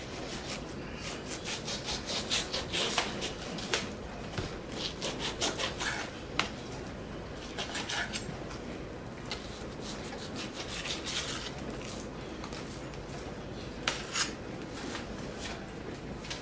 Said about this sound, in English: so I can slice it in my bread slicer that has a attachment for slicing meats and veggies.